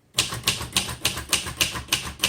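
A 1963 Royal Safari vintage typewriter is typed on in a steady rhythm of about eight crisp, loud keystrikes, close up with no talking.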